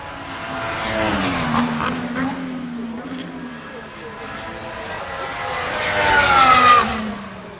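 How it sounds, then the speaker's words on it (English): Formula 1 race cars scream past at the Suzuka circuit in Japan, engines rising and falling as they pass, with a louder close pass near the end and voices talking faintly over the roar. "you can only hear the F1 Suzuka circuit sounds in Japan, though."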